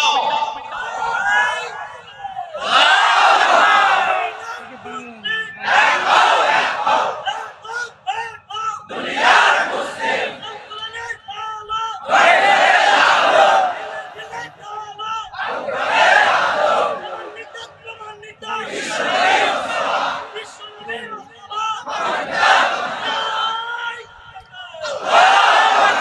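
A large crowd at a Bengali religious sermon gathering roars the takbir chant, Allahu Akbar, in loud repeated waves alternating with a lead voice, about seven or eight call-and-response bursts across the stretch.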